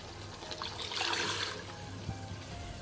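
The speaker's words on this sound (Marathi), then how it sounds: "आपल्याला जेवढं पाणी लागेल तेवढं टाकायचं" Water is poured into cooked dal in a pot while making thin Maharashtrian varan. A soft, short splashing pour swells and fades, quiet and close, with no talking.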